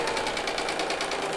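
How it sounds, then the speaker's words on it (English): A serger chains off the end of a quilt-top seam in one continuous rapid stitching buzz, close and steady, with no one talking. "I'm going to go ahead and chain this one all the way off"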